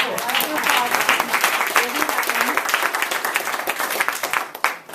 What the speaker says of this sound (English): Number 3, that's an applause line.